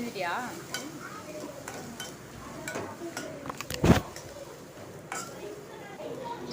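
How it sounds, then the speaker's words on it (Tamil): Chopped eggplant sautéed in a pan, with a soft sizzle under repeated spatula scrapes and knocks against the metal. One louder clatter stands out midway, and a person talks over the cooking. "அரிஞ்சு வச்சுருக்கிற கத்திரிக்காய் எடுத்து வானலில் சேர்த்துக்கலாம். நல்லா அதை நம்ம வதக்கிக்கலாம்."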